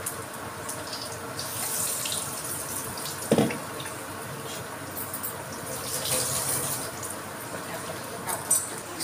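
Potato slices deep-fry in hot oil for pakora, giving a continuous bubbling hiss that holds steady throughout, with a brief louder splash partway through.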